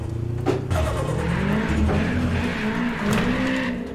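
Engine of a Trueno E86 in a racing video game revs and strains while drifting up a parking lot, a steady droning engine note with rising pitch sweeps and faint tire squeal.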